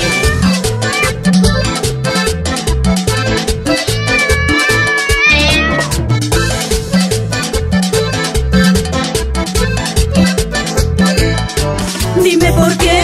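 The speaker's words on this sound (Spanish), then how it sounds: "¡Suelte ese gato encerrado!" A locked-up cat meows again and again over a steady, rhythmic musical beat, with loud, repeated calls.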